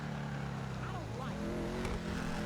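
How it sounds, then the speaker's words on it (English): Engine of a Dominator GT muscle car in a GTA racing game, a deep growly rumble holding steady with rising revs, loud and close throughout the short stretch. "Engine sound is immense. It sounds growly."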